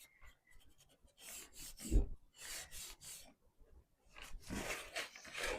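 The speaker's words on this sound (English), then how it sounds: "I can use steel wool to wax it." Four-zero steel wool rubs black wax onto a little red wagon in uneven bursts of close, scratchy rubbing strokes separated by brief pauses.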